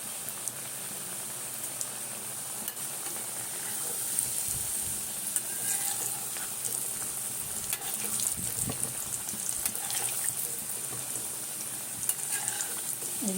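Homemade French fries crackle and sizzle steadily in hot oil over a lowered gas flame, a dense continuous frying hiss with scattered pops and faint clinks, close up and without speech.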